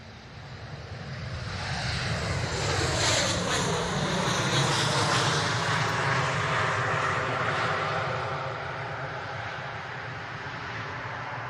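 A jet airliner passes at Manchester Airport, its engine roar swelling from a distance to a loud broad rumble with a sweeping whine, then slowly fading while still clearly audible.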